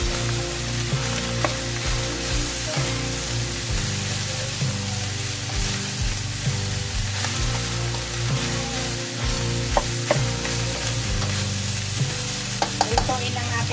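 Steady loud sizzling of ground beef giniling frying in a pan, with intermittent scraping stir sounds over the continuous hiss and no talk.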